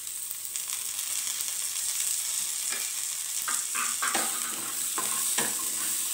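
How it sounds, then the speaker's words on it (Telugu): Pieces of amla with turmeric fry in a pan, giving a soft steady sizzle broken by a few scraping stirs of a spoon, quiet and close. "ఉసిరి ముక్కలు ఇలా కొంచెం ఫ్రై చేసుకుంటే పచ్చివాసన పోతుంది."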